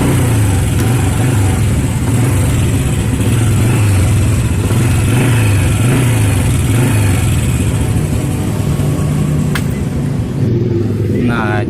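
A motorcycle engine runs after its spark plug gap has been tightened, idling loudly up close with an uneven, pulsing low rumble and some revving before it quiets at the end.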